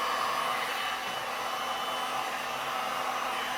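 Heat blower drying a freeform geode resin artwork, a steady close whooshing roar of air that stays even throughout, no voices.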